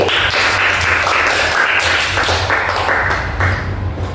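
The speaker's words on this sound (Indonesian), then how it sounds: "Berikan dulu tepuk tangan buat teman kita, Maloni." Students in a classroom applaud a classmate, a steady round of many hands clapping that holds at an even, fairly loud level for a few seconds with no talk over it.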